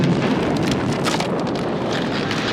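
A sustained, roaring blast from a thrown grenade in a film scene, loud and broadband with rumbling debris and wind-like noise filling the whole stretch, no voices.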